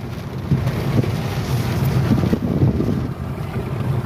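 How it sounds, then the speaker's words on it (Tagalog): Heavy rain pouring down outdoors, a dense, loud, steady roar with a blustery low rumble like wind buffeting the microphone, continuous throughout with no talk. "Lakas ng ulan."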